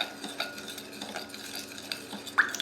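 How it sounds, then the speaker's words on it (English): A spoon stirs a sauce with red pepper flakes in a bowl, giving soft, close scraping and clinking touches with one sharper tap near the end. "I'm gonna grab a spoon. Just gonna stir this up."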